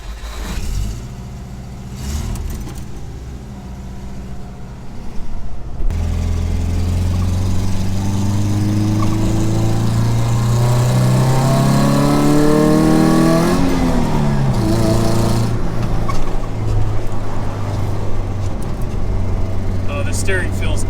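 Subaru-engine-swapped Porsche 914 on a test drive, its engine rising steadily through the gears with sweeping revs, loud and close inside the car; brief quieter moments with talk before it pulls away.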